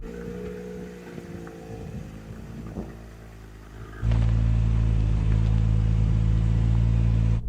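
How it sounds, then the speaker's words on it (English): An SUV engine drones through an off-road test course, first muffled with some knocks and rattles, then jumping abruptly to a loud, close, steady roar of engine and road noise. "then we're going to drive around a tight turn, which will check how manoeuvrable these cars are, and Darren will decide which car wins"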